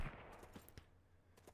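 Gunfire from a Sunkenland game session, heard as a rapid burst of faint, distant-sounding shots crackling in quick succession over a short stretch.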